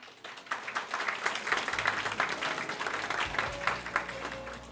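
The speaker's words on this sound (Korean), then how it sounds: "박수로 환영해 주십시오" An audience at a peace forum eve dinner gives a steady round of applause to welcome the unification minister, moderately loud and continuous with no talk over it.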